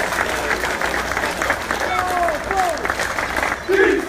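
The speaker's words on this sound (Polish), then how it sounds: "Wielkie brawa, Rafał Kycko." An audience applauds at a team presentation for the Hetman Zamość sports club, a sustained wash of clapping from a crowd while an announcer talks over it.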